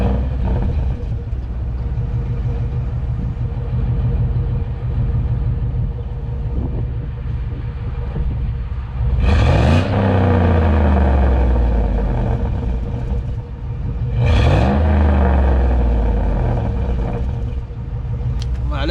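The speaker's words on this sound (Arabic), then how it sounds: "خلينا نشغل السيارة ونسمع هل في فرق صوت ولا ما في فرق في الصوت" A GM vehicle's engine idles after its catalytic converters were emptied. It rumbles low and steady, then revs up sharply twice and falls back each time, with some wind noise over the microphone.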